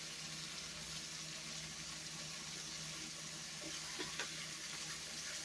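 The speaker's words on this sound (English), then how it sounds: "And you can really hear that frying." Steady sizzling of portabella mushrooms with onion powder frying in a pan, a continuous crackly hiss at low level with a couple of brief clinks near the end.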